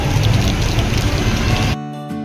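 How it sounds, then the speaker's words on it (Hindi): Steady rain falling in Hyderabad, a dense, loud close hiss of drops that cuts off abruptly near the end, with no talk. "शुरू हो गया बारिश।"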